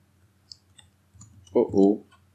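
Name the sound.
computer mouse clicking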